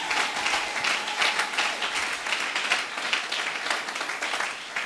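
Church congregation at a sermon applauding and cheering loudly, a dense continuous wash of clapping with voices mixed in, steady throughout.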